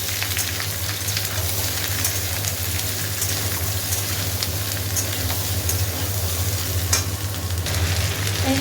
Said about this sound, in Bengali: এবার ভালো করে ভাজি